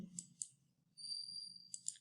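Computer mouse clicks: a few sharp, close, quiet clicks, two early and a pair near the end, with a faint steady electronic whine in between.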